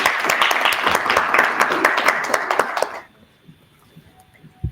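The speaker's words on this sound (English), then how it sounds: "round of applause to her." A room full of people applauds a presenter at an International Women's Day 2024 event, a burst of steady clapping for about three seconds that stops abruptly, followed by near silence.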